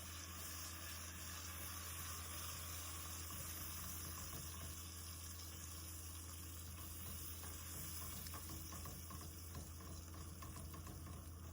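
Cream being stirred into a white sauce with golden onion in a pan, a steady soft sizzle and wet scraping swirl running continuously at close range with no talking.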